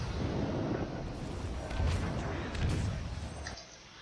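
Warship guns fire in the naval video game World of Warships: a sustained rumble of heavy, booming salvos that fades out near the end.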